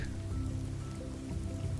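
Steady rain from a raindrops mod in the video game Morrowind, a continuous wash of pattering drops with a low rumbling bed, moderately quiet and unbroken throughout with no voices.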